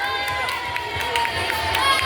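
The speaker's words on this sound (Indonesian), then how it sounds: "Beri tepuk tangan yang meriah." A school audience cheers and claps, a lively crowd of children's shouts and scattered applause at moderate distance, with voices mixed in.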